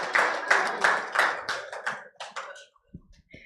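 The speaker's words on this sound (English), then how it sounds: "Please, a round of applause for yourselves." A handful of people at a healthcare facilities launch event in Nigeria clap close by in a short, sparse round that thins out into a few scattered claps and fades within seconds.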